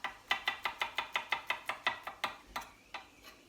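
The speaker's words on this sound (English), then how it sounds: "I've got another two cloves of garlic that I've peeled. I'm just going to slice them up." A kitchen knife slices two peeled garlic cloves for pea and mint soup, about a dozen crisp, evenly spaced cuts close by that slow and thin out toward the end, with no talking.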